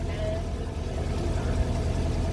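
A Volkswagen Vanagon engine, not yet rebuilt, runs steadily just after starting, a continuous low rumbling idle heard up close with no talking over it.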